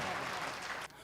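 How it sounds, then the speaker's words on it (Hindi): Audience at a mushaira poetry recital in Amravati, Maharashtra, clapping loudly and continuously, a dense wash of applause that drops off sharply near the end. "एक मरतबा भरपूर तालियां बजा दे अमरावती"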